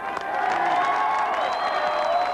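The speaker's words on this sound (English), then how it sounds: "The crowd cheered a series of passionate speeches." A large crowd at a 1992 Los Angeles riot protest rally at City Hall cheers and shouts continuously, a dense, steady roar of voices with some applause mixed in.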